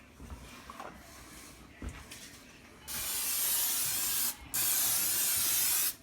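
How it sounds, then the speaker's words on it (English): Two loud, sustained hissing bursts of cooking spray aimed into a large bowl, the second after a short pause, following quieter handling knocks. "And some cooking spray"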